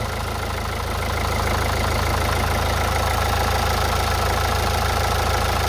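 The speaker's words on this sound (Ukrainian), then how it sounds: "Ось у нас двигун працює, всі чотири форсунки, все добре" A Renault Megane 2 1.5 dCi four-cylinder diesel engine idles steadily up close, a constant low rumble with a fine rapid knocking clatter running throughout.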